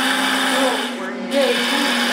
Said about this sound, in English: Getting a lot more chatter out of that piece of wood than I would really like